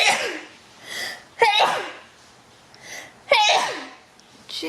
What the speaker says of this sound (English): I have a loud sneeze, I can't help it.